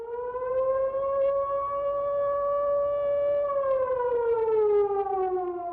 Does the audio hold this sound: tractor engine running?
no